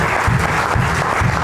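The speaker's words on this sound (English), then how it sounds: "give a big round of applause to Les" A roomful of guests at a club's annual 70s/80s ball give Les a big round of applause, a dense, steady wash of clapping that carries through the whole stretch at a loud, even level.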